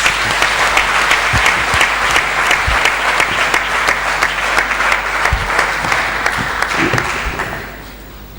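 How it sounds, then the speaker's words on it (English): Audience at a session of the ECOWAS Parliament's fifth legislature gives sustained, loud applause with sharp individual claps standing out, fading out near the end. "Please give her another resounding applause."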